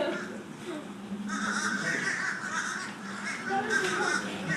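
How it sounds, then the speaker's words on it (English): A crowd of birds being fed outdoors calls in harsh overlapping caws, steady for several seconds, with a person's voice mixed in. "It's the birds."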